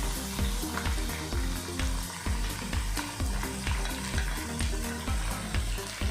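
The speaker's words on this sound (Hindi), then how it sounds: "चिकन को फ्राई होते 3 मिनट हो गए हैं" Steady sizzling and crackling of chicken frying with ginger-garlic paste and green chilies in a hot pan, with occasional stirring clinks and scrapes, close up.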